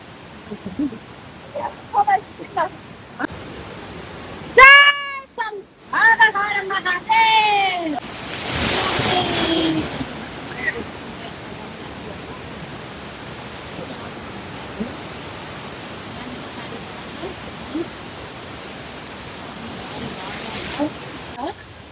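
A rushing mountain stream on the trail to Gosainkunda flows steadily in the background, a constant broad hiss, with a few voices and calls early on before the water dominates.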